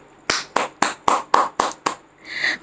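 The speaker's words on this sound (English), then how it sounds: "A big round of applause for all of them." A short burst of clapping for participants in an online dance competition, about seven separate claps in an uneven rhythm, close by, ending in a soft rush of noise.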